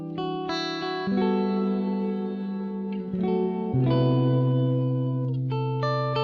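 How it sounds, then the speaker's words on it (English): Sustained instrument notes pass through the epicPLATE mkII plate reverb plugin, giving a lush echo and reverb wash; the tones shift in pitch and the tails ring on smoothly between the changes. "Adds a very cool echo effect"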